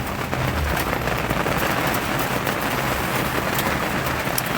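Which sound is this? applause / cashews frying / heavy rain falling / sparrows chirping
heavy rain falling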